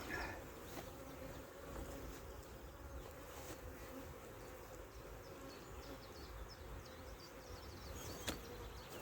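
Honey bees buzz around an open beehive on a hot day, a steady close swarm drone with individual bees flying past, faint and continuous.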